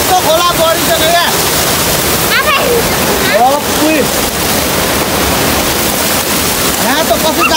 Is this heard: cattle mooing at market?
no